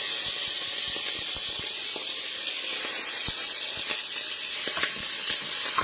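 Fresh green chilli hits hot oil in a pan, giving a steady loud sizzle and hiss with scattered crackling pops, close up and alone without talk.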